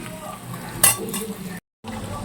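Onion and capsicum stir-frying in a pan give a close sizzle with scraping stirs and a sharp clatter of a spoon on metal, broken by a brief silent gap.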